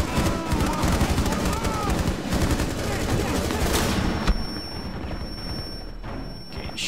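Heavy gunfire in the Rainbow Six Siege video game: dense, overlapping shots and bursts for about four seconds, then a sudden drop to a quieter scene where a steady high tone lingers.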